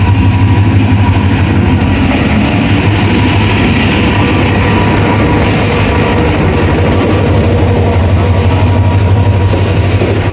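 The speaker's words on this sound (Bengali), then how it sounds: "এই যে ট্রেনটা যাচ্ছে, এটা হচ্ছে 7:45, এখানে যাচ্ছে পার্বতীপুর।" A train bound for Parbatipur runs past at a station, a loud continuous engine drone with rolling wheel rumble and clatter holding steady throughout.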